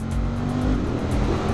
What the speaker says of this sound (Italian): che bello la voce del bicilindrico Ducati, del testa stretta a 11 gradi del Monster 1200